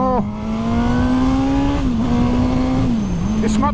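A Suzuki GSX-S motorcycle engine revs loudly and up close as the throttle opens, a strong sustained buzzing drone with a brief dip in pitch midway before climbing again, heard alone.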